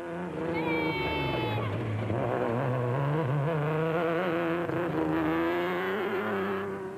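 A Nissan race car engine at the Lesotho Sun 400 in 2005 drones loudly and continuously, its pitch shifting with gear changes under a commentator's voice.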